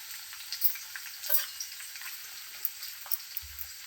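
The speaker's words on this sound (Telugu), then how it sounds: "ఆనియన్, ఉల్లిగడ్డ వేయించుకుంటున్నాం. మనం గోల్డెన్ కలర్ వచ్చే వరకు వేయించుకోవాలి." Chopped onions frying in a pan for chicken biryani give a soft, steady sizzle with faint crackles and occasional light stirring scrapes, fairly quiet and alone.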